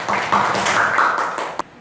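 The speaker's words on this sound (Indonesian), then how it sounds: "tepuk tangan untuk Marsa" Pupils in a classroom clap for a classmate named Marsa before a Quran recitation, making a short, busy patter of hand claps with a few sharper smacks and fading near the end.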